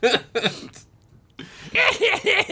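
A voice acts out a couple of short coughs, then after a pause breaks into a run of chuckling laughter.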